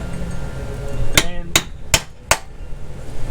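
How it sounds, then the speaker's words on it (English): Four sharp, ringing hammer blows land on the metal collar of a Lexus IS300's rear end, evenly spaced about a third of a second apart and loud and close, following a low mechanical hum. "So hammer to the rescue."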